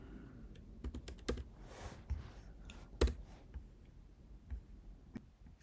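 Quiet, close keyboard typing with a burst of irregular clicky keystrokes and a couple of sharper key presses, entering a command in a computer terminal, with no voices.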